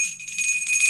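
A small hand bell rings with a clear, sustained metallic tone that shimmers for about a second, close and fairly loud, over a faint low murmur.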